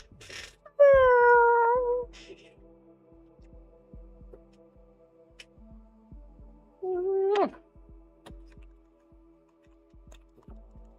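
Macaroni the cat meows twice, a drawn-out clear meow near the start and a shorter one later, close and fairly loud over a quiet room with faint ticking.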